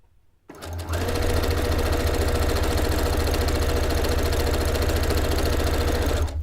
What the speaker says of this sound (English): If your sewing machine's going to eat your fabric, it's usually on that first few bites.